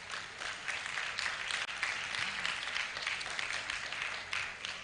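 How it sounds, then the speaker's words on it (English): A large audience applauding steadily at a nursing induction ceremony, a dense wash of clapping that holds at an even level throughout. "Can you clap for yourself?"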